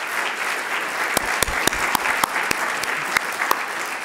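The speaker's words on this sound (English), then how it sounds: "Everyone give them a huge round of applause" A breakfast crowd at an arts leadership awards event applauds the winners. Steady, full clapping is punctuated by several sharp, close individual claps that stand out from the mass.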